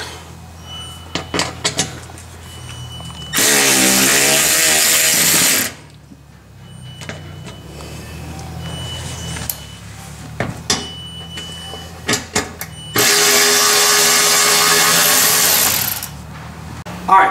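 A power tool spins out 8mm bolts on a Jeep JT during a front bumper install, in two sustained loud whirring bursts separated by quieter clicks and handling knocks.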